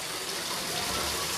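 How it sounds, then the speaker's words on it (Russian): Water rushing along a village stream in the mountains of Spain's Alpujarra, a steady broadband gush that is close and fairly loud throughout, with no voices. "Во, вода как течет."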